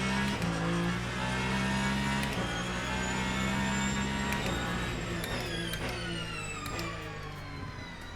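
Hypercar engine in the racing game Le Mans Ultimate, a sustained high-pitched whine that revs up and shifts through gears, loud and close with no talk.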